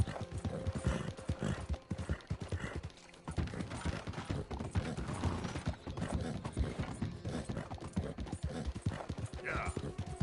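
Rhythmic horse hooves clip-clop steadily beneath clanking mechanical noise in the video game Red Dead Redemption 2, with people talking over the top.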